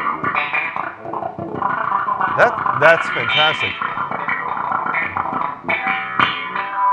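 Slap bass run through an effects unit, its percussive popping notes sounding close and steady throughout, with people talking over and between the playing.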